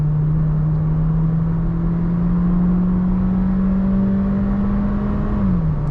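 A Volkswagen Virtus engine revs under manual override with paddle shifters, its drone climbing slowly and steadily before a brief dip near the end, loud and close with no talking.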